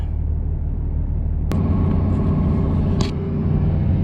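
Pickup truck being driven, a steady low engine and road rumble heard from inside the cab, with a couple of brief clicks partway through.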